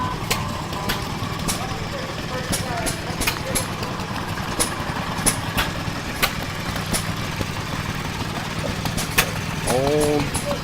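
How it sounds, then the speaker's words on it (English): Antique engines run steadily outdoors at a heritage days show in Burtrum, Minnesota, with a low, continuous rumble, punctuated by sharp periodic clicks or knocks, with a few voices briefly heard near the end. "Old motors out here, old engines."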